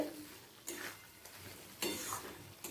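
Fried pointed gourd being stirred into yogurt curry in a pan, soft scraping strokes in a few bursts over a low steady sizzle, close and quiet with no talking.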